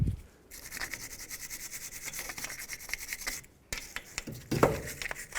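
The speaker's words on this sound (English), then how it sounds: "Now I'll get the wire brush again." A wire brush scrapes around the hub of a 2003-2007 Nissan Murano during a wheel hub and bearing replacement, a steady close rasping that runs for several seconds, pauses briefly, then returns in shorter, sharper strokes.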